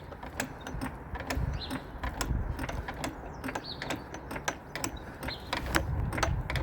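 A car jack being pumped to lift a Jaguar 5.0 XKR: a steady run of sharp, close ratcheting clicks repeating in quick rhythm, with no talk over it.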